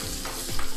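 A steady close sizzle of spices, green chillies and red chilli frying in hot butter for a kadhi tempering, bright and crackling throughout.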